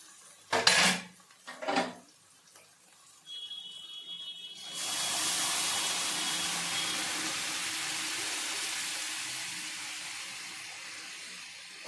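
Chickpeas tipped into a pan of fried tomato, ginger and green chilli masala: a couple of clanks, then a sustained loud sizzle and hiss that carries on steadily to the end.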